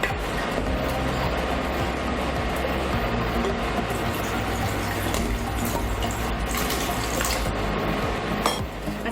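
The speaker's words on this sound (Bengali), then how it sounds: "তাই প্রয়োজন মতো এখানে একটু অল্প জল দিতে পারেন।" Water pours into a pot of Kolkata-style chicken rezala curry, a steady splashing trickle with faint clinks of cookware, heard close and alone without speech.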